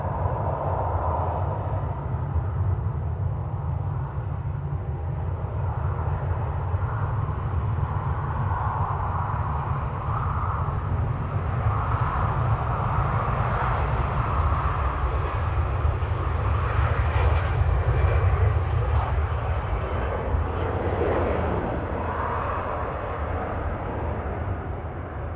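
A Lufthansa airliner accelerates on its take-off roll at Manchester Airport, producing a sustained loud low engine rumble with a broad roar that swells slightly in the middle and holds steady.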